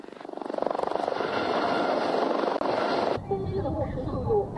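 Chinese military helicopter in flight during a test, a loud steady rotor and engine drone with chopping pulses that holds for about three seconds, then gives way to quieter noise as voices talk.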